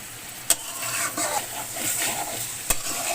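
Farm chicken meat fries in its own juices with a close, steady sizzle, stirred continuously with a couple of sharp utensil knocks against the pan.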